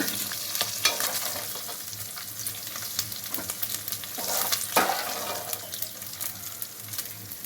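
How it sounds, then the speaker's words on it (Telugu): Mutton pieces with rock salt fry in hot oil in a pan, giving a steady, dense sizzle with occasional scraping stirs, close and continuous throughout, no voices. "ఒక్క నిమిషం వేయించుకుంటే సరిపోతుంది."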